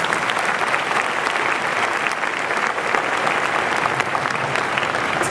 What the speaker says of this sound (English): 25 years, let's give her a round of applause.